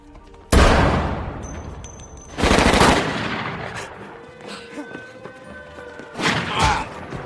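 Several sudden, loud gunshot blasts from a film scene ring out with sharp echoing tails, separated by pauses, over a faint background rumble with brief talk between bursts.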